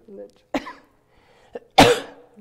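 A few sharp coughs, close and loud, with a short harsh burst near the end and a brief murmur at the start.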